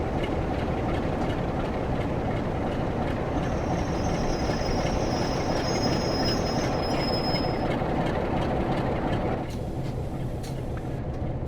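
Locomotive in a train simulator game running along rails, a loud continuous rumble of wheels with a thin high squeal drawn out in the middle, the roar dropping slightly near the end; no voices.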